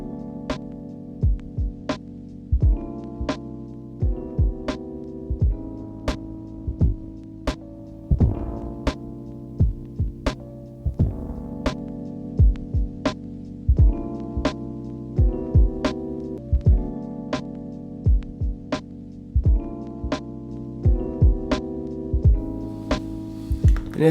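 A steady looping electronic beat runs through an Elektron Analog Heat Mk2 set to its harshest distortion type with the drive turned all the way down, giving a repeating pattern of punchy hits over sustained tonal layers.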